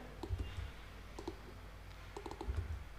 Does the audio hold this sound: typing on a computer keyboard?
yes